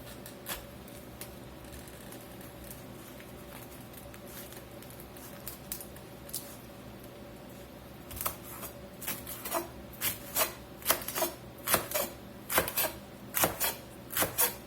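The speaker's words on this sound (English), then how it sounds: "We got our greens all cut up, looking pretty good." Knife chopping collard greens on a cutting board in a kitchen, soft scraping at first, then a steady run of close rhythmic chopping thuds that grows louder toward the end.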